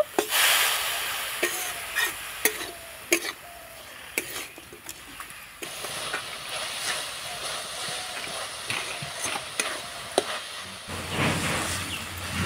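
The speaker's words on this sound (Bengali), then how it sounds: "এবার আমি নাড়াচাড়া করে পুরটা তৈরি করে নেব" A spoon stirs jaggery and a little water in a pan to make a sweet filling for jhinuk pitha, with steady soft sizzling and repeated knocks and scrapes against the pan, close and without talk.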